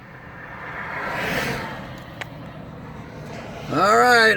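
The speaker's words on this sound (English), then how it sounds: "Yep, here comes my rescue vehicle." A rescue vehicle arrives for a broken-down, overheated Chrysler Sebring, its engine and road noise swelling gradually and passing as a broad whoosh, followed near the end by a loud, tonal rising-and-falling whine or horn-like sound close by.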